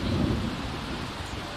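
A thunderstorm in The Sims 4 rumbles with loud thunder over steady rain, as lightning strikes a character; the noise stays dense and continuous without speech.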